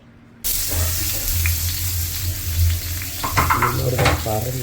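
Sea bream sizzles as it fries in hot oil in a pan, a loud, steady crackling hiss that starts abruptly and holds, with a few scraping and clattering touches and a brief voice near the end.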